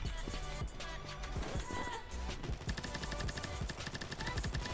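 Rapid automatic MAC10 hip-fire bursts in the shooter game Combat Master, dense and continuous throughout, with clattering impacts layered over a busy game mix.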